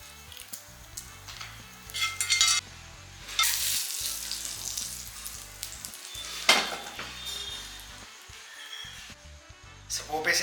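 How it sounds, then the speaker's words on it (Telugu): Cumin, garlic and hing tempering in hot oil for millet khichdi, crackling and sizzling in bursts with stirring and pan clatter, fairly close and moderately loud with brief talk mixed in. "లాస్ట్ స్టెప్ ఏంటంటే పోపు వేసుకోవడం."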